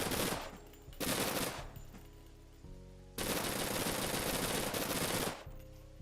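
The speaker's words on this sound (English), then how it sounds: "let's see how that submachine gun does" A submachine gun firing in the video game Persist Online, several sustained bursts of rapid automatic fire separated by short pauses, the longest burst near the end, loud and close with no talking.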